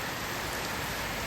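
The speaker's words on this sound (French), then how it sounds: "grosse pluie" Heavy rain pours steadily in Bohol, Philippines, a dense, constant hiss of drops drumming on surfaces, close and even throughout with no voices.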